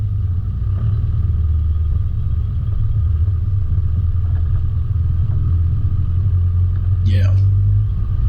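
A 4WD engine rumbles steadily at a river crossing while the vehicle rocks backwards and forwards to engage the rear diff lock, a constant low drone close up with faint knocks and a brief whine near the end.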